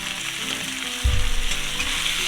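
Cheesesteak meat hits an oiled Blackstone griddle, raising a steady bright sizzle that jumps louder at the drop and stays strong and close, with no talking.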